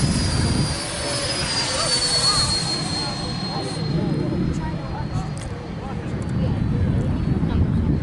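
Freewing T-33 radio-controlled electric model jets flying as a group at an Arizona electric model festival, a loud continuous whooshing ducted-fan whine that swells and fades overhead throughout, with people talking nearby.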